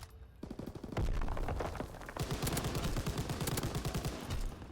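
Sustained automatic gunfire in Call of Duty WWII, loud rapid bursts of shots firing continuously and close, with a short pause before the shooting resumes.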